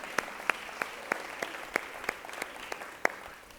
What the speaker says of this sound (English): let's applaud that one.